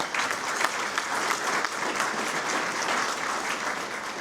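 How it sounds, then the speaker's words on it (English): A breakfast event audience gives a big round of applause, sustained dense clapping from many hands that continues evenly throughout, with no talk over it. "Please give them a big round of applause."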